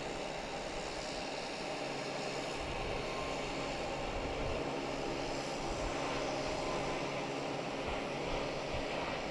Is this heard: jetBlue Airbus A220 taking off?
yes